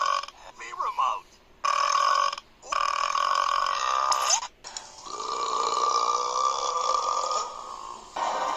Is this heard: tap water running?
no